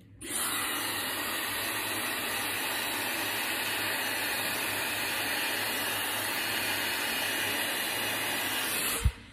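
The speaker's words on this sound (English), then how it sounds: "I'm just drying the root area and I'm drying it in the opposite direction." A handheld hair dryer with its nozzle pushed down blows steadily at the roots of a section of hair during a glossy blow-dry, a close, loud, continuous rushing with no speech.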